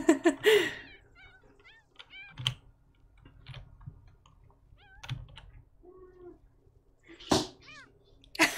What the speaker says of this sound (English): you might be hearing Mini, Mini my cat from, from my actual house.